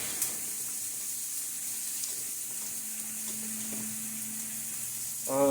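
The fat side of a steak sears in a hot pan, a constant close sizzle and hiss with a faint tonal hum, ending in a brief louder burst.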